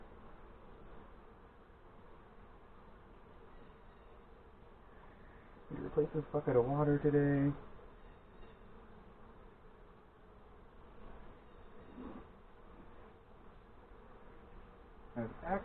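Honeybees buzz faintly and steadily around a newly installed nuc hive outdoors in northern Michigan, with someone speaking briefly in the middle.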